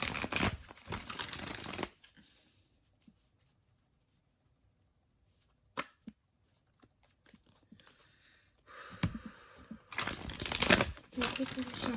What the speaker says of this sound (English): Do a quick little shuffle.